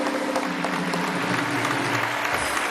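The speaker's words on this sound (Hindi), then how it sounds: "ज़रा तालियां बजाएं, ज़रा ज़बरदस्त अंदाज में" Studio audience clapping on a Pakistani television game show, a continuous dense patter of many hands throughout, moderately loud with a low hum beneath.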